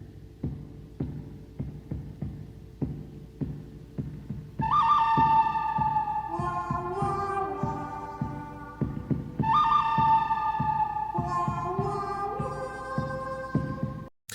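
Whistled melody from the score of a spaghetti Western film, two bright sustained whistled phrases riding over a steady rhythmic pulse of percussion and orchestral backing, no talking.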